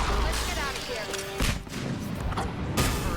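Game gunfire in Mass Effect 3 during a firefight with Cerberus troops, dense and continuous with repeated heavy bursts and booming impacts, while a player talks over the combat.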